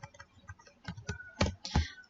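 Keys clatter on a computer keyboard while code for a simple Bootstrap web page is typed, in a short irregular burst of light taps that ends in a few louder strokes, close up with no speech.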